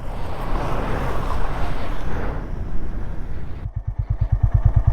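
Honda Highness motorcycle pushing through a deep, still water crossing in Ladakh, with loud splashing and wind rush, then the engine's rapid throbbing pulses close by near the end.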